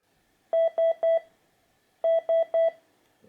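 The Hatch Restore's 'signal' alarm wake sound plays as two bursts of three quick, identical electronic beeps, each group separated by a short pause, clear and alone.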